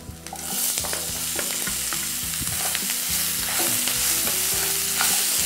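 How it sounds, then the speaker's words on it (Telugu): Cucumber pieces tossed into a crisp, sizzling tempering for keera dosakaya curry and stirred, producing a loud, close frying hiss with rhythmic scraping strokes of the spoon against the pan, no talking. "పోపు ఆల్మోస్ట్ క్రిస్పీగా వేగిపోయింది, అందులో ఈ కీరా ముక్కల్ని మనం జోడిద్దాం."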